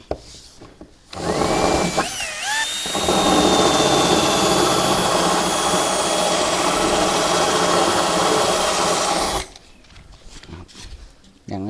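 A power drill bores mounting holes while 16 polycrystalline 340 W solar panels are installed. It runs as one loud, continuous whining burst of about eight seconds, framed by quieter handling noise before and after.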